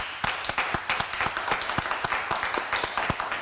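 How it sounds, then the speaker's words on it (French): Audience applause in a television studio in Abidjan, a dense burst of many hands clapping close and loud, steady throughout with no talk. "Ça s'applaudit."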